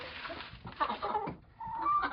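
Old chickens cluck softly in short, irregular bursts as they peck at food in a farmyard during hot weather, close by with some overlapping calls.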